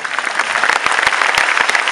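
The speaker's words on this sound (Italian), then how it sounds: "questo meriterebbe già un applauso" Steady, loud applause from a crowd at an appearance presenting a tour and band, dense clapping throughout with a few sharper individual claps standing out.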